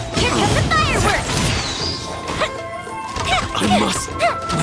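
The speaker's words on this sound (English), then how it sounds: "Here come the fireworks!" Crackling bursts, whooshes and smashing impacts from a fireworks-style attack in the video game Genshin Impact, dense and loud, with a character's voice and game chatter over the top.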